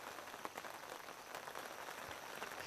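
Rain falling on a fishing spot, a soft, dense patter of drops with a few sharper taps, steady and faint throughout, with no talk.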